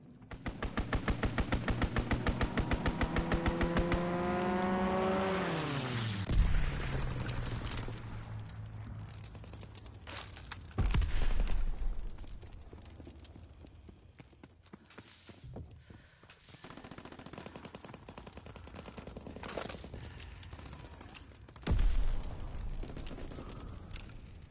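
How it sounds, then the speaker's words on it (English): Call of Duty WW2 hardcore team deathmatch: an aircraft strafing run sweeps in with a long burst of rapid machine-gun fire and a descending engine whine, followed by scattered loud impacts and bangs. "Enemy strafing run incoming. Get to cover!"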